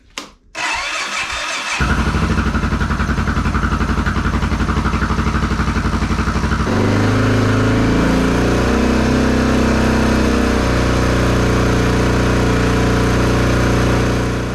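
A Honda XR650L single-cylinder motorcycle with its factory decompressor refitted cranks briefly, catches and fires up, then settles into a loud, steady, close idle that shifts slightly in pitch as it runs.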